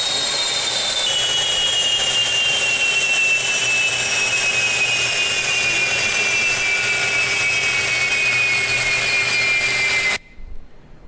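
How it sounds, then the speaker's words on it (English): A DRDO jet engine of the Adir class, an indigenous aero engine under development, runs steadily at idle with a loud continuous whine and roar, its high tone slowly falling, before cutting off abruptly near the end. "We have reached idle speed, and we are able to run it for 1 hour."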